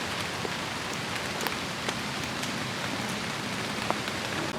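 Steady rain falls in Pennsylvania woods during an archery deer hunt, a dense continuous hiss with scattered sharper drops ticking on leaves and surfaces nearby, loud and unbroken, with no voices.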